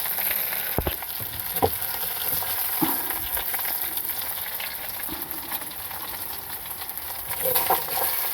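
Food frying in a pan with very little oil, a close, steady crackling sizzle broken by occasional scraping knocks of a utensil against the pan, no talk.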